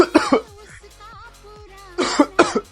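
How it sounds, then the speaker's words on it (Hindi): A person coughs in short, harsh bursts at the start and again near the end, with a clipped pause between the fits. "इतना क्या खांस रहे हो तुम?"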